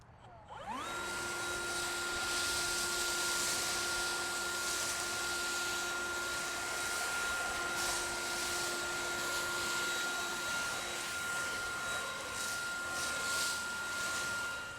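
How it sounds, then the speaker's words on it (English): A Milwaukee M18 cordless leaf blower spins up with a rising whine and then runs steadily, a loud close whoosh of air with sustained high motor tones that dip slightly midway. "Can you blow the leaves off your 4-wheeler for me?"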